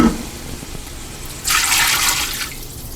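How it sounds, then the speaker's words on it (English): Water pours in a steady, hissing stream into a pressure cooker pot for about a second, close by, after a quieter stretch of faint handling noise. "Add 2 cups of water."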